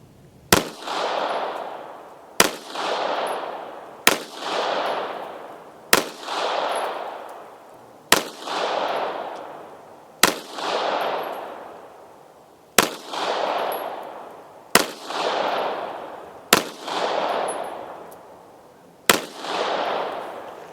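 Pistol test-fired with Murom Russian primers, about ten sharp, loud shots at a steady pace, each cracking and then ringing off into an outdoor range, with no talking.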